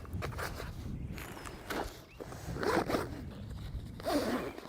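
A backpack holding a 12 gauge Baikal MP-18 shotgun with a .22 LR adapter is zipped shut in several quick, rasping pulls, close by, amid rustling fabric and handling.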